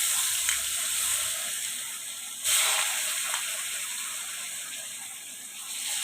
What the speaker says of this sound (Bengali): এখন আলুটা ফ্রাই করে নেব, তাহলে ভালো হবে